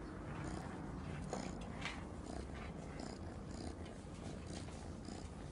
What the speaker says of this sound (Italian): fai sempre fusa e ti devi sempre rotolare